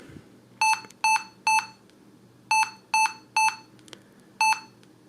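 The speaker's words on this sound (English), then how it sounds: "that's 1331 in terms of beeps, and that's a RAM error" A sequence of identical electronic beeps in groups, one, three, three, then one, the RAM error beep code of a Lenovo ThinkPad X131e laptop during startup, sounding clearly over faint fan hum.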